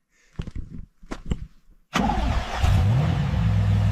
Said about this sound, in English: Just turboed my Camaro.